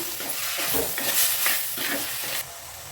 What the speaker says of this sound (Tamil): இப்போ இதையும் நல்லா கலந்து விட்டுடலாம்